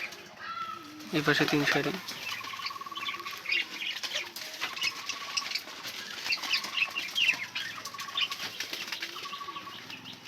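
Pigeons in a coop with rows of mounted baskets give a burst of loud wing flapping early on, followed by soft scattered coos and rustling while someone talks over them.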